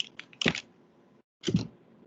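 Two brief bursts of key presses on a computer keyboard, entering a value during a session on a Talos F200C electron microscope, with a quiet pause between them.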